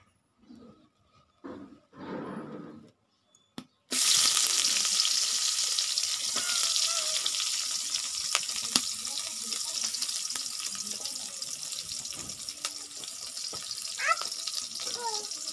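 Small fish are sautéed in a pan with melted pumpkin. After a few faint clinks and rustles, a loud, steady sizzle erupts and continues close by, with occasional stirring scrapes and pops and no voices.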